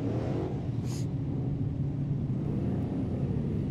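Super Stock Truck racing engines rumble around the track at the 2023 Crandon World Championships, a steady, droning roar of several trucks heard from a moderate distance.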